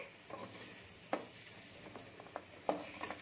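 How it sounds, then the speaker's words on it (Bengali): Potatoes frying in hot oil in a wok and being stirred, a faint steady sizzle with a few sharp scrapes and clinks of the spatula standing out, no talking. "দিয়ে ভালো করে আমি এটাকে নেড়ে নেবো। এটা একটু লাল লাল করে আমি ভেজে নেবো।"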